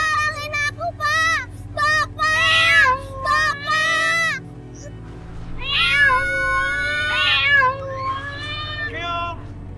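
A cat meows repeatedly in several drawn-out, wavering cries, some rising into a whining caterwaul, loud and close over a low background hum, with a short pause midway before more meowing.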